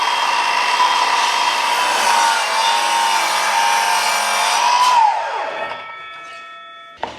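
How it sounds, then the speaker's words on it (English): A saw cuts through a wooden skirting board for a scribe, a loud, steady rasping buzz close by that winds down with a falling pitch and ends in a brief clatter. "Now I cut the straight part of the scribe."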